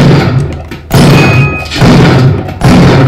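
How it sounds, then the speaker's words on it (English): Bomb blasts in the video game Spelunky HD, played at maximum volume: three loud, booming thuds in quick succession, each cutting in abruptly over a dense roaring rumble. "Wasting enough bombs at this point."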